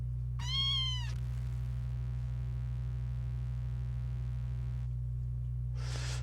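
A sampled cat meow fed into a Behringer Neutron synthesizer as an oscillator input: one short, harmonically rich meow over a loud, steady low synth drone, then a breathy noise burst near the end.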